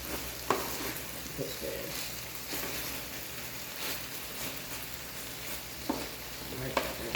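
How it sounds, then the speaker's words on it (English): Chicken frying in a pan while being stirred, with a continuous sizzle broken by scraping strokes and a few sharp utensil knocks, and a brief spoken remark. "I'm gonna let the chicken cook for a little bit, maybe a couple of more minutes, because I do not want it to stick."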